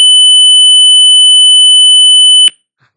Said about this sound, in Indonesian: Terus buzzernya bakal bunyi di pitch yang paling tinggi dengan delay 3000 atau 3 detik.